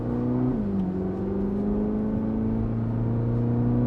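A 2026 Chevrolet Corvette C8 ZR1 drives in track mode on a twisty road, its engine a steady, loud interior drone whose pitch dips briefly at a shift and then holds a deep, even hum.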